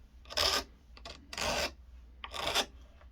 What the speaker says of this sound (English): This is a diamond file. It cuts in basically every direction,